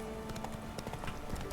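Hooves of the horse in The Witcher 3 clip-clopping in a quick, steady galloping rhythm, faint and continuous with no other sounds.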